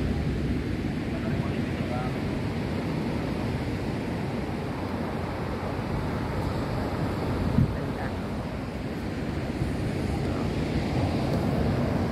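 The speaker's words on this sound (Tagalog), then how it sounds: "Grabe, lakas ng alon." Strong ocean waves at Lio Beach in El Nido, Palawan, a loud continuous roar of surf mixed with heavy wind buffeting, with a person talking over it.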